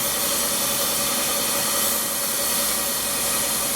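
Fan motor of a Samsung floor-mounted air conditioner runs with a steady, dense whirring drone and a constant high hiss, close and unbroken with no voices.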